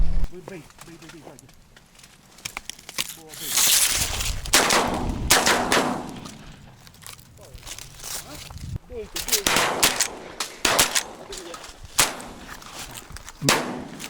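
Several sharp shotgun blasts crack out at irregular intervals during a pigeon hunt, some close and loud, others farther off, amid frequent talking between people outdoors.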